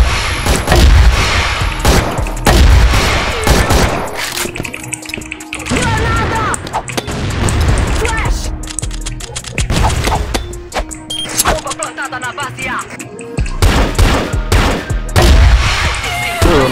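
Rapid bursts of AK-103 gunfire in a video game crack repeatedly, loud and close, in dense volleys with brief pauses between them.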